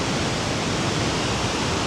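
Mae Ya waterfall in Chiang Mai roars as a steady, loud, dense rush of falling water, continuous and close with no voices over it.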